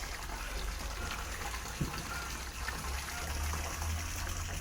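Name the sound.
water being poured on garden plants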